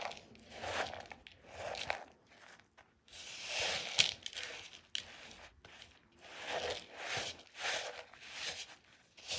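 Chopped dried apricots being stirred and mixed by hand for homemade vitamin candy, giving repeated soft sticky crunching and squishing bursts in a steady rhythm, close and fairly quiet, with no talk.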